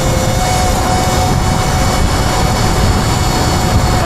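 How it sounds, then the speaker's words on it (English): An 8000W King Goat V3 electric bike motor runs at speed, a loud, dense, continuous roar with a faint whine above it and steady rushing noise, no breaks. "Noticed that the motor is quite a bit louder since I made the install."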